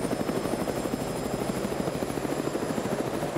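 Helicopter engine and rotor from the military video game Arma 3, a steady loud rhythmic whirring chop that runs throughout without pause.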